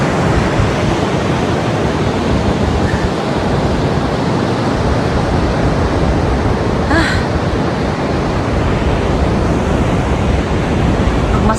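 Steady roar of sea waves and wind on a rugged coast near Bilbao, Spain, a continuous broadband wash that stays loud and even throughout, with no voices.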